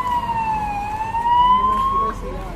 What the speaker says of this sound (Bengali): এদিকে অ্যাম্বুলেন্স আসছে সাউন্ড